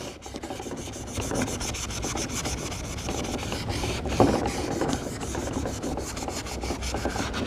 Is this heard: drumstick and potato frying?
no